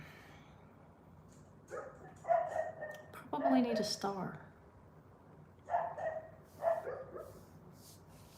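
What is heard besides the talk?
dogs barking at the gate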